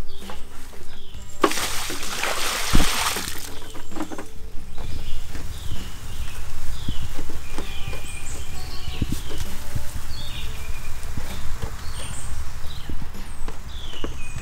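Clean water sloshes and pours into a goat trough in a farmyard, a loud gushing burst early on followed by softer splashes and scattered knocks, with chirping birds and hoof-like steps in the background.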